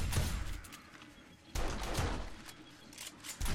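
Bursts of gunfire from the video game 7 Days to Die in its Darkness Falls mode: sharp, fairly loud shots in irregular clusters with short gaps between volleys; no voices are present.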